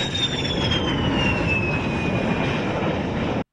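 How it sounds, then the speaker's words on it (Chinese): Jordanian fighter jets pass over Karak after an air strike mission, a loud, steady roar with a descending whine that fills the whole stretch before cutting off abruptly. "而完成攻击任务的战机也在此时飞越卡拉克上空"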